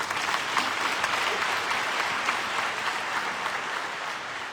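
Congregation in a church applauding arriving pilgrims during Sunday Mass, a steady dense wash of clapping from many hands that fills the space evenly from start to finish.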